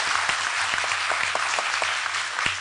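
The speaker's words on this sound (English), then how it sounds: "we will not have any applause after a speaker has spoken" Audience applauding at a town meeting in Wareham, a dense, steady patter of many hands clapping at close range with no speech over it.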